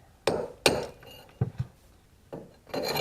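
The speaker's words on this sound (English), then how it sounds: "you can see I'm just chipping little bits out" A hammer drives a chisel to chip cement in a hole, giving sharp, separate impacts close by: two strong blows, a pair of lighter taps, then more strikes after a short pause, with no talking.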